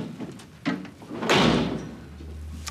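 A door slams shut indoors with a heavy thud and a sharp rattle. Some faint knocks come before it, and low room noise follows.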